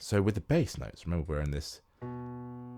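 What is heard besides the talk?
No everyday noise stands out behind the speech.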